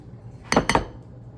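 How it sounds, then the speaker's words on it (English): Metal pastry cutter pressing butter into cookie dough in a bowl, two quick bright clinks close up. "use this pastry cutter, because I don't think my hands are strong enough to cut in that butter"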